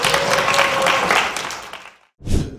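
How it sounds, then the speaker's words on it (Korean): Applause from an audience at a high school book concert, dense and steady for about two seconds. It cuts off abruptly, then comes back briefly in a short burst. "박수!"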